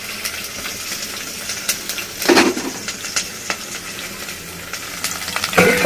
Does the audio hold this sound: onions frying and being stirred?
yes